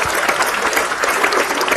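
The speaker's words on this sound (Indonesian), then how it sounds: "Boleh tepuk tangan buat Pak Ustadz Maulana." Audience applause for Pak Ustadz Maulana at an Islamic religious talk event, a dense, steady burst of many hands clapping together throughout, fairly loud and with no voices over it.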